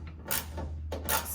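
An 8mm socket wrench works the tail light bolts on a Jeep Gladiator, giving soft ratcheting and scraping clicks in two short close bursts with no talking.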